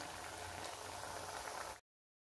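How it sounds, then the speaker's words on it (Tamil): Baby corn pieces frying in oil over a medium flame, a soft steady sizzle and bubbling that holds evenly before cutting off abruptly. "மீடியம் ஃப்ளேம்லேயே வச்சு நம்ம ஃப்ரை பண்ணிகிட்ருக்கோம்"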